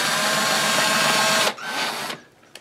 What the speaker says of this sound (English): this is easier to do, believe it or not, with a hand drill